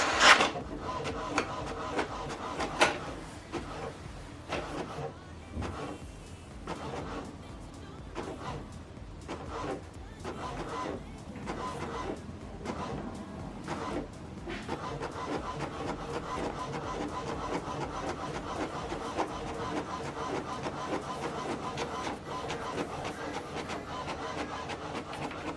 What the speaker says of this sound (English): so that it will print out the second part